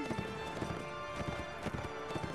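Hooves clatter in a quick galloping clip-clop rhythm as a horse runs in the medieval combat game Mount & Blade: Warband, close and steady with game background sound underneath and no talk.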